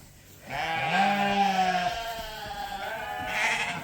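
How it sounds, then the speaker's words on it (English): Sheep bleating in a farm flock with a ram and ewes, a loud close bleat rising and holding for a few seconds, with more bleating around it. "See, this ram has to be caught. He's chasing the ewes."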